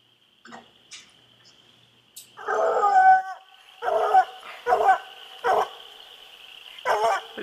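Coon dogs bay and howl at a raccoon treed in the woods, a series of loud, drawn-out bawls spaced a second or so apart, fairly close, with a steady insect-like tone in the background.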